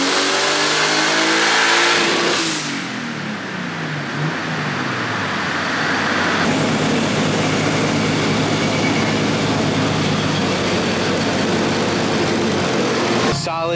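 A built, boosted BMW E36 engine screams through a dyno pull, climbing steadily in pitch at full volume, then roaring on loudly before abruptly cutting off, close and dominant with voices faintly mixed in.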